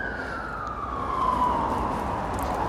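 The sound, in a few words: emergency vehicle sirens in the background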